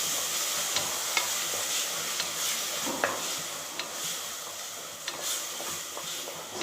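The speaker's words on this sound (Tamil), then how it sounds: "பச்சை வாசனை போகிற வரை நல்லா வதக்கிடலாம்" Ground ginger, garlic and coconut masala sautéing in a hot pan, a loud continuous sizzle and crackle with repeated scraping stirs of a spatula, close up and without talk.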